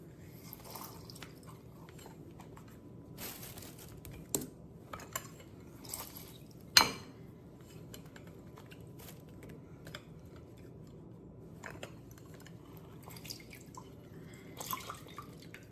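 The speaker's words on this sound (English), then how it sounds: "Now I will juice the lime." Limes are hand-juiced for ceviche, faint scattered squishes, drips and small clicks of the fruit and juicer at close range, with one sharper knock midway and quiet gaps between squeezes.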